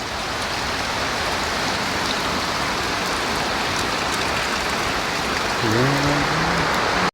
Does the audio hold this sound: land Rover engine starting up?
no